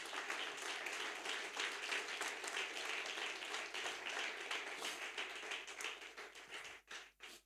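A church congregation gives sustained applause as a dense wash of many hands clapping. It holds steady, then thins into a few last claps at the end.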